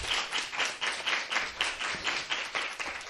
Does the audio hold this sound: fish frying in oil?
no